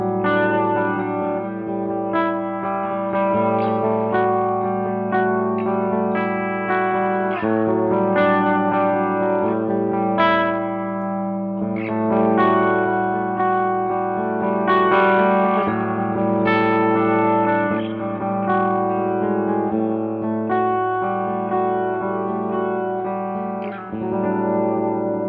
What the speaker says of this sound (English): always been a long time favorite sound of mine, the rotating speaker